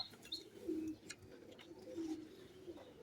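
Racing pigeons at a club loft coo softly in low, rolling phrases, two or three murmured calls over a faint, noisy background, with no voices.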